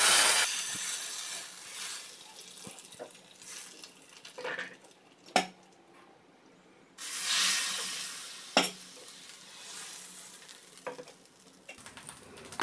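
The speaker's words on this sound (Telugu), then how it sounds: "ఈ పోపును మనం ఈ పప్పుచారులో వేసేసుకోవాలి." A hot tempering is poured into simmering Andhra-style lentil soup. Bursts of loud hissing sizzle come between quieter bubbling spells, with sharp metal clinks of a spoon or pan close by and no talk.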